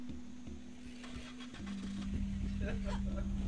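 Truck engine idling and revving in the Dead Island video game, a steady low hum that shifts pitch midway and grows rougher, with people talking over it.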